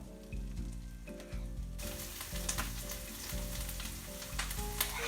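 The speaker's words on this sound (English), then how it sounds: "Now I like to cook these potatoes for 6 to 8 minutes" Potatoes with onions on top, seasoned with salt and pepper, fry for hash browns, giving a steady close crackling sizzle in the pan that swells louder partway through, with no talking.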